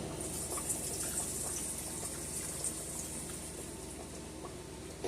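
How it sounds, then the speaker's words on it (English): Water drained off a pot of boiled smoked turkey drumstick, poured in a steady, even rush that flows without a break and ends in a brief final splash. "So I'm going to drain the water off."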